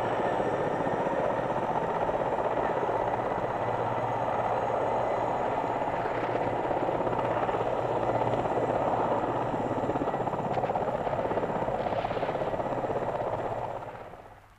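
Helicopters flying in from the sea over Saigon on 29 April during the final evacuation, a loud steady rotor thump and engine drone holding throughout before fading out at the very end.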